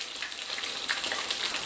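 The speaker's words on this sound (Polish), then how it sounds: "Z drugiej strony tak samo smażymy" White Italian Christmas pastry dough fries in hot oil with a steady, dense crackling sizzle, close and continuous throughout.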